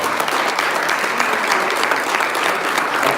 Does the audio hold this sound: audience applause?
yes